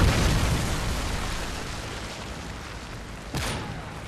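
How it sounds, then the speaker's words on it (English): A Predator missile explosion in a video game: a loud, rumbling blast that slowly fades over several seconds, followed near the end by a short, sharp pop. "Friendly Predator missile inbound."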